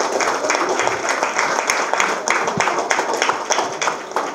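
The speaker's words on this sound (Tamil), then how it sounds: "கிட்ஸுக்கு எல்லாருமே நிஜமாகவே ஒரு பெரிய கைத்தட்டல் கொடுத்துடலாம்" Children's art exhibition at an academy's inauguration ceremony, where a crowd applauds the young artists with a sustained patter of many clapping hands, loud and close, with some voices mixed in underneath.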